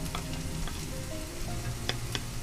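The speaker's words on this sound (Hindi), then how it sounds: "ये ऑयल में मैं ऐड कर देती हूँ ये 3 से 4 कली लहसुन की एंड छोटा टुकड़ा अदरक का" Finely chopped garlic (three or four cloves) and a small piece of ginger sizzle in hot oil for chilli paneer, a steady crackling hiss with small pops and the occasional scrape of stirring.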